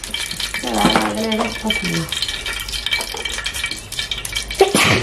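Mustard seeds sizzle and crackle in plenty of hot oil for a tamarind curry, a steady frying hiss with spatters and a few utensil clinks, while people talk over it.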